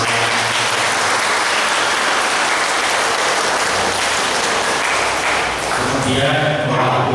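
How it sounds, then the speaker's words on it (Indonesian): Sustained applause from a church congregation at a First Communion ceremony in a parish in Pemalang, dense steady clapping filling the space without pause, with voices faintly mixed in near the end. "Kita beri tepuk tangan untuk"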